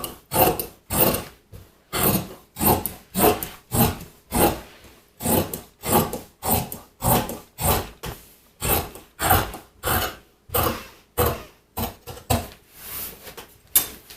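Fabric for a 40-inch by 16-inch swag valance being cut with scissors, a steady run of about twenty rhythmic rasping snips, close and fairly loud, with no talking.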